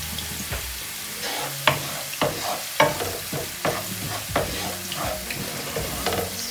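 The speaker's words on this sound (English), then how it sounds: "I'm just going to fry this very, very gently over very low heat for about 3 minutes" Onion fries gently in oil over very low heat for homemade onion oil, a soft steady sizzle punctuated by repeated scraping stirs at a close, moderate level.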